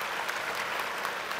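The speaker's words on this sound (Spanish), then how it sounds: "Un aplauso, por favor, para Iván" An audience at a small-business week event claps steadily in dense, even applause that holds at a constant level throughout.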